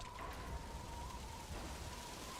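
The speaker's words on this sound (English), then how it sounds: "Now it's started to rain." Rain begins in Metal Gear Solid 5: The Phantom Pain as part of its dynamic weather, a soft, even hiss of falling drops with a faint steady hum underneath and no talking.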